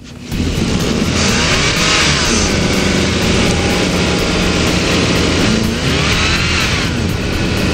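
Sokol quad bikes (ATVs) set off from a race start in deep snow, several engines revving loudly together and continuously, their pitch rising and falling as they accelerate away.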